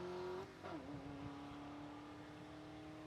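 A Mustang drag car launches at full throttle at Saskatchewan International Raceway, a steady loud engine drone that wavers briefly near the start and then holds one sustained pitch as it pulls away.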